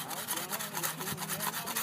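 A handsaw cuts an undercut into a tree limb during city tree pruning in Ithaca, with a steady back-and-forth rasping rhythm of about two strokes per second, heard from a short distance and fairly faint.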